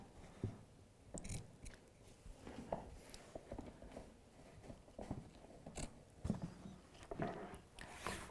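Scissors snip through fabric for a handmade floor lamp shade, a close series of irregular crunchy cuts and rustling handling noises with no talking.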